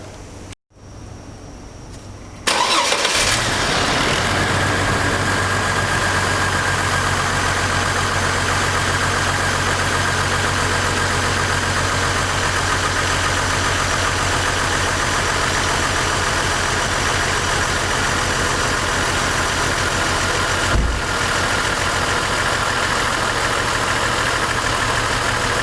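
A Chevrolet Trailblazer with a misfire cranks and fires up after a brief quiet moment, then settles into a loud, steady idle with a low uneven rumble, one brief blip near the end.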